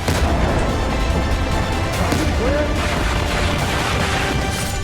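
Army artillery fire and explosions in the Syrian fighting: a dense, continuous roar of distant blasts and rumbling booms that blur into a loud wall of noise.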